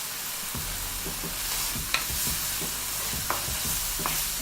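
Pork frying in its own rendered fat, a constant close hiss and crackle with occasional stirring knocks and small pops, no talking.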